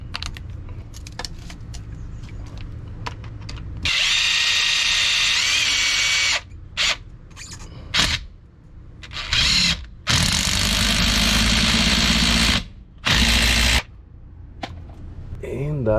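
A power drill drives a provided nut onto an X-shaped tandem-axle RV wheel chock stabilizer in several loud bursts, whirring for about two seconds at a time with short pauses, alone without talk.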